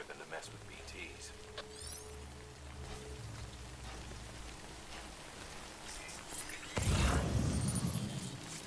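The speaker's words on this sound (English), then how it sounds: "Good thing it was raining." Rain falls steadily in the video game Death Stranding, a soft continuous patter under voices, growing heavier and louder toward the end.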